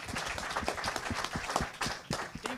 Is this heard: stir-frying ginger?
no